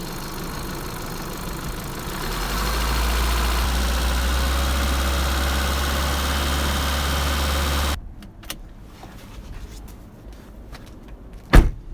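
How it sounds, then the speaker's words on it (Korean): A car engine with a cable-operated throttle body idles, then is revved to a steady, louder hum near 3000 RPM for several seconds before cutting off, leaving quiet clicks and a sharp knock at the end. "이거를 당기면 엔진 RPM이 올라갑니다"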